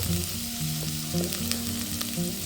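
Fish frying in a pan for an okra dish, a strong close sizzle with crackling pops and low tonal hums underneath, steady throughout.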